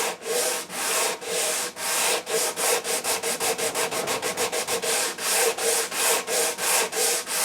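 A sanding block works the fretboard of a maple guitar neck during a refret, grit around 120 to 180, producing loud, close, rhythmic rasping strokes that quicken to a rapid back-and-forth in the middle before slowing again.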